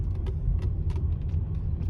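A 2006 Mercedes-Benz E 350 4Matic sedan idles steadily, giving a low continuous engine rumble close by with a few faint ticks above it and no talking.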